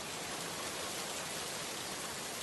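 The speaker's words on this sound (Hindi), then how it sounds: "बहुत तेज बारिश होने लगी" Heavy cartoon rain pours down in a dense, unbroken hiss that stays loud and constant from start to finish.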